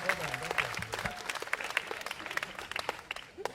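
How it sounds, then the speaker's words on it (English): Audience applause for a banjo player at a string band show, scattered clapping that thins into separate sharp claps while someone talks over it and a few voices call out. "Everybody give that banjo player a hand."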